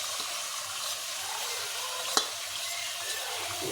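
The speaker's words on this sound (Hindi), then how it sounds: "इसको 2 मिनट तक तो भूनना ही चाहिए अच्छे से।" Chicken with ginger garlic paste fries in a pan for a chicken stew, giving a steady loud sizzle with light stirring scrapes and one sharp clink of a utensil.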